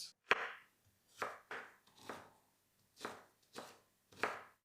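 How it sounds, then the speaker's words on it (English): A knife chops through a carrot on a cutting board, about seven crisp separate strikes spaced unevenly, close and fairly quiet, with no voice. "Then I cut a piece of carrot."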